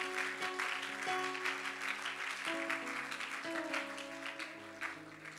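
A church congregation claps together during a service, a dense, continuous applause that rises over sustained music tones and carries on for several seconds.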